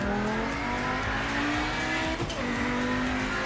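Mercury Cougar race car in the Project Motor Racing video game accelerating out of a corner, a loud continuous engine note with a brief dip and gear change midway, no talk.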